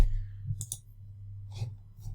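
A couple of quick, light computer mouse clicks snap out near the start and again later, close and crisp against a low steady hum, with a brief breathy noise in between.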